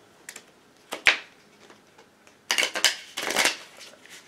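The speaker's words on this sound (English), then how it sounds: "Because I do overhand shuffling as well as riffle shuffling." A tarot deck, The Muse, being shuffled by hand in both overhand and riffle styles. Papery swishes and flutters come in short bursts, then a denser run of riffling, close and fairly quiet.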